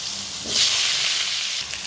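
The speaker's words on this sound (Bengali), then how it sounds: "আলুগুলো ভেজে নেবো আগে।" Potato pieces frying in oil in a home kitchen pan, giving a continuous close hiss of sizzling that rises briefly and then settles into a steady, even fry.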